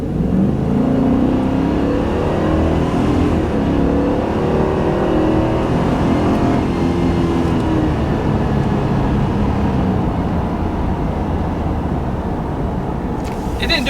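Ford F350 pickup with the 7.3-liter gas V8 accelerating from a roll through a light, a steady loud engine drone with rising pitch heard from inside the cab, continuous for the whole stretch.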